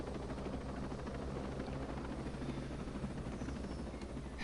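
Steady helicopter rotor thrum with a low pulsing beat and engine whine, heard inside a video game, constant and moderately close throughout with no talk.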